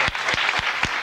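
Studio audience applause on a television news-panel show, a dense continuous clapping wash filling the whole moment, loud and close with no voices over it.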